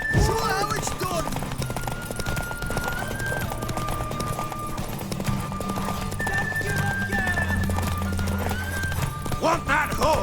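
Horse hooves clip-clop steadily with a neigh in The Witcher 3: Wild Hunt, loud and continuous under game music and sword-fight sounds, with voices speaking over it.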